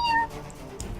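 A cat lets out a short, close meow at the very start, a bright wavering cry that fades within a fraction of a second into quieter background room sound.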